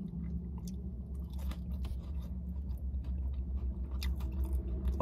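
Close, loud chewing and biting of Peruvian potato fries with a cheesy sauce, steady crunchy mastication running continuously with occasional crisp bites and no talking.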